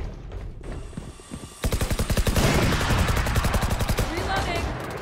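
Rapid bursts of automatic gunfire in the shooter game Valorant, a dense rattling stream of shots after a brief lull, loud and sustained with a voice talking over it.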